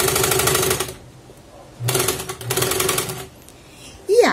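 A sewing machine runs back over the same seam in short bursts of rapid stitching, stopping and starting with quiet pauses between, close by, while making a quilted, embroidered placemat.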